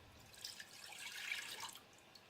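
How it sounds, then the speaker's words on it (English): Pineapple juice is poured into a non-stick pan for a ham glaze, giving a faint, steady splashing trickle that lasts about two seconds. "We're going to pour the pineapple juice in."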